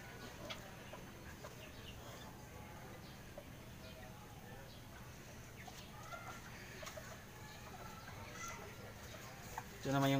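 Serama chickens of a home-bred SG line cluck softly and intermittently in a quiet pen, with scattered faint bird calls over low background noise and a louder bump at the very end.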